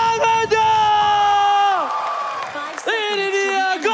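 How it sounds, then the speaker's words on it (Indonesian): A crowd cheers and whoops at an esports playoff match, a Mobile Legends series between AE and Aura, over sustained loud horn-like musical tones, with a brief swell of noise near the end. "Mana tepuk tangannya?"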